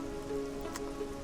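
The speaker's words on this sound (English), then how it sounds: "It's a bit weird how it's sort of raining and we're on a volcano" Rain falling in the video game Oblivion on a volcano near a lake town, a steady soft hiss of rain on surfaces with occasional brief drop sounds, no talk.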